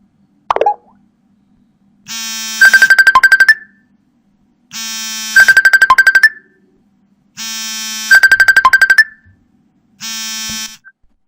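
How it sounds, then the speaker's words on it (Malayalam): A Facebook Messenger incoming voice call ringtone on a mobile phone follows a single plop, three loud repeating bursts of bright, bubbly chiming tones with a fourth starting at the end, separated by short silences. "ഇതുപോലെ കോൾ വന്നാൽ എങ്ങനെ ഇരിക്കും നോക്കാം."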